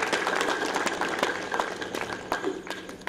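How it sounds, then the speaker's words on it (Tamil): Audience applause at a comedy speech event held at a temple in Saidapet, Tamil Nadu: a moderate, continuous patter of many hands clapping with scattered louder claps, heard on its own without talk. "எனக்கு தெரிஞ்சு தமிழ்நாட்டில் இவ்வளவு தூரம் கைத்தட்டி என் காதே போகும்"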